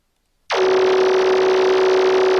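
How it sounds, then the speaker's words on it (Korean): Electronic tone from a Scratch radar program plays as one loud, steady buzzing drone that starts abruptly after half a second and holds without break, like a beep looping too fast to separate. "삐 하는 이 전자신호음도 같이 재생이 될 것 같아요."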